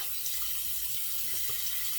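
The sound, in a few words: razor rinsed under running water tap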